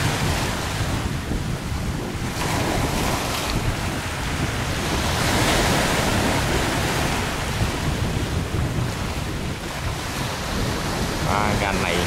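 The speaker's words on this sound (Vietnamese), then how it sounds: "Quá sóng." Big waves surging at sea around a steel boat heading out past the shore break, a constant loud roar of surf mixed with heavy wind buffeting the microphone throughout.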